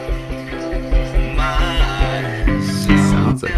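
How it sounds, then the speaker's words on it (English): A bass part on a music recording plays a steady, repeating low riff with pulsing notes and other instruments layered over it, loud and continuous. "I mean, that sounds like a bass."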